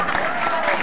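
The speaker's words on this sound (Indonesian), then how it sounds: "applause, tepuk tangan." Audience applause for a performer at a Balinese topeng pajegan masked dance show at a crossroads in Bongkasa, a brief dense patter of clapping from a crowd.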